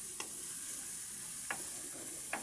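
Beef and garlic sizzle steadily in a pan, a constant close frying hiss broken by a few brief scraping stirs, with no voices.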